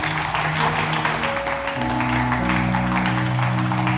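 A church congregation applauds and cheers for Jesus Christ at a Christian prophetic service, a dense, steady wash of clapping and voices filling the whole stretch with sustained tones underneath.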